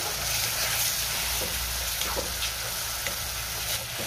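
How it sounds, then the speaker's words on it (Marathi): Tomatoes and green chillies with coriander sizzle in a pan for a Marathi tomato chutney, a dense continuous frying hiss with soft scraping as they are stirred, fairly close and steady. "आता ह्यामध्ये आपण टोमॅटो घालूया आणि सगळं व्यवस्थित मिक्स करून घेऊया"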